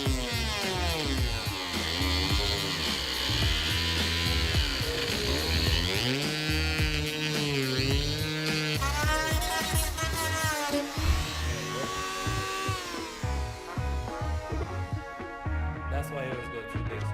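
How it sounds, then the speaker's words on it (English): A Dremel rotary tool cuts into the tail section of a 2007–12 Honda CBR600RR during a tail tidy fit: a steady, loud buzzing whine that rises and falls in pitch as the cut loads and eases, running without a break. "now I'm going to get the Dremel out, well, rotary tool"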